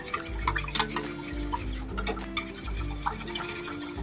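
Makhana powder mixture stirred by hand in a vessel, quick repeated scraping strokes with light ticking clicks of the spoon, close and steady over a low continuous hum.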